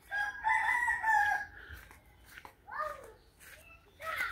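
A rooster crows loudly and close by in a village yard at Niteshwar, Moulvibazar, with a couple of drawn-out calls followed by shorter crowing phrases amid faint background voices.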